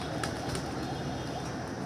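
Pigeons at a loft in Rajbari, Bangladesh, give a brief, faint call against a steady, loud broadband background. Nobody speaks.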